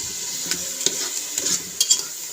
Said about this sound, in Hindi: ताकि हमारा मसाला और पालक एक ही टाइम में भून जाए